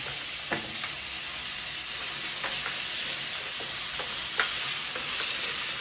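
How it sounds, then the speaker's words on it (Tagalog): Potatoes fry in their own oil with a steady, dense sizzle throughout, broken by a few louder crackles and pops and an occasional stir, with nobody talking. "kailangan iprito natin yung potato sa ano. Sarili niyang mantika."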